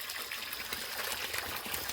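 River water flows steadily near a village in Kenya, a loud, close, continuous rush and gurgle with no voices.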